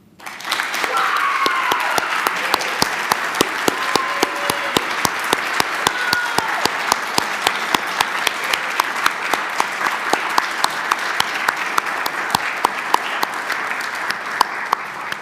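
An audience at an honors conference applauds award recipients, steady sustained clapping from a sizable crowd filling the room, loud and continuous throughout with a few brief voices underneath.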